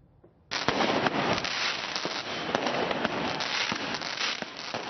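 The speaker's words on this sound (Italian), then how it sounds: "con fuochi di artificio lanciati ad altezza uomo" Fireworks bursting during New Year's Eve celebrations in Cologne, a dense continuous barrage of crackling pops and sharp bangs that erupts suddenly after a quiet start and keeps going loud and close.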